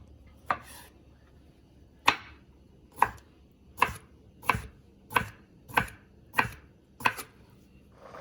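A knife chops pickled gherkins into not-too-small pieces on a cutting board for a German potato sausage soup: nine sharp, evenly spaced chops, close and distinct against a quiet kitchen background.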